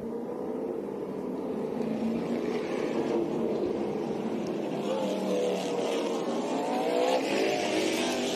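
Race cars roar together at South Boston Speedway as a stock car race gets underway, a dense, steady engine drone throughout with rising and falling whine, continuous and fairly loud with faint crowd or commentary underneath.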